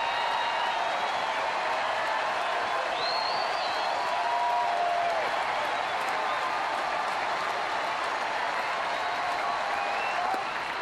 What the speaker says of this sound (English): It's left to this Fenway crowd rooting on Darnell McDonald.